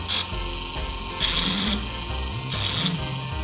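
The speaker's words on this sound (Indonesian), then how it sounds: "kita rapikan dengan amplas nomor 80" Brass being smoothed with coarse 80-grit sandpaper gives three short, loud rasping strokes at spaced intervals over a low background hum.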